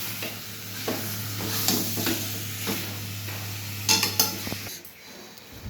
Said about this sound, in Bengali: মাংসটা দিয়ে মশলাটার সাথে মাংসটাকে খানিকক্ষণ ভেজে নেব।